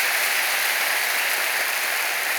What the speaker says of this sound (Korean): 우리 기도원 선교회에서 큰 박수로 좀 감사를